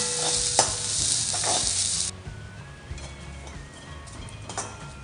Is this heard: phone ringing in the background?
no